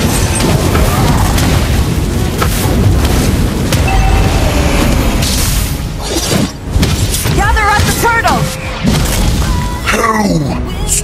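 Booming turret destruction in Mobile Legends: Bang Bang, a heavy explosion with crashing debris amid continuous battle effects, chirping skill sounds and in-game announcer voices.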